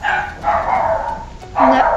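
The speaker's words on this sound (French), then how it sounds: "vous inquiétez pas, c'est mon chien." A pet dog barks indoors, close by, in a few sharp separate bursts with short gaps between them, while a voice is briefly heard.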